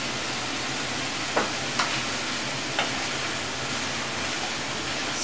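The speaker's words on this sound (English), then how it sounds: "Stir it." A spoon stirs sweetened food in a pan during Indian home cooking, a soft continuous hiss broken by a few light scraping clicks, fairly quiet with no talking.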